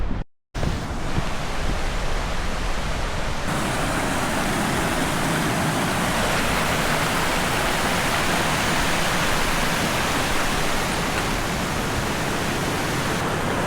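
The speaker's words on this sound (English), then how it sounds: "Right, we've arrived at the river crossing." A mountain river at a crossing rushes loudly and steadily, a dense broadband roar of flowing water heard close with some wind buffeting and no talking, after a brief dropout at the start.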